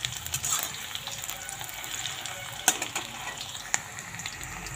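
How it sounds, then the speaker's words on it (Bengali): Onions frying in a pan with bay leaf and cumin, cooked until reddish for a meat dish: a steady soft sizzle with a few sharp clinks of the utensil against the pan. "পেঁয়াজটা লাল লাল করে ভেজে নেব"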